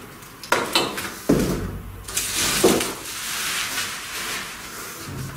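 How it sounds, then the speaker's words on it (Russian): A cardboard box holding a ZUBR DP-K7-30000-D diesel heat cannon is opened close up, with sharp flap snaps, scraping and thuds of parts being handled in short bursts. "Давайте откроем коробку."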